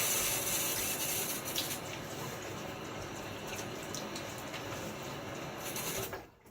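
Tap water running steadily into a sink to prepare for a wet shave, a continuous close rush that cuts off abruptly at the end.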